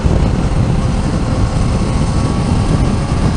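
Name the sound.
Yamaha Niken motorcycle riding in third gear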